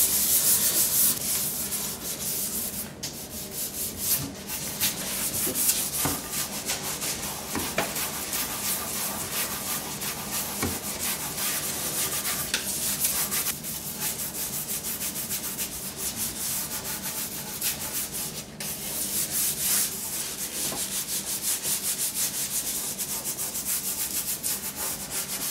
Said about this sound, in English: Grab your brush, just a regular brush here, and